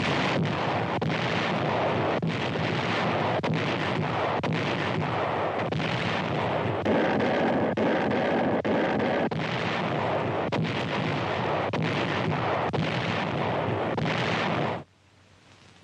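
Heavy US artillery fire during a Pacific War battle against a Japanese charge: a dense barrage of booming blasts and rumbling explosions, loud and continuous for about fifteen seconds before cutting off abruptly.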